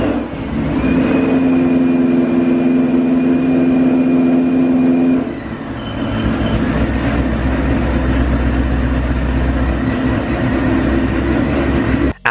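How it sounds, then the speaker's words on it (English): A loud, close supercharged V8 in a Mustang runs steadily with a high mechanical whine on first startup, then the tone shifts and settles into a rough, throaty idle. "this is the engine back into the bay here, and here is the first startup"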